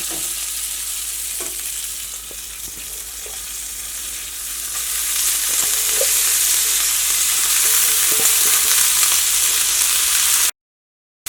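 Coriander leaves and green chilies frying in a pan for a Kerala onion-chili chammanthi, a steady close hiss of sizzling oil with a few soft stirring knocks, growing slightly louder before cutting off.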